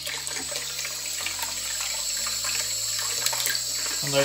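Tap water running into a sink while a wet-shaving brush is rinsed clean, a steady close splashing stream with the pitch shifting in steps as the flow changes.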